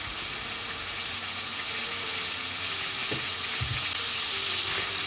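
Shallots sizzling in a hot pan that just cooked prawns, a steady dense frying hiss throughout with a couple of faint clinks of a utensil near the end, no voices.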